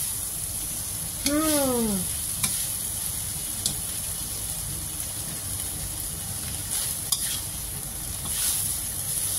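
Shrimp sizzle steadily as they are stirred in a hot pan, with a continuous crackling hiss and a few sharper scraping clinks. A voice rises in a brief sung or spoken phrase near the start.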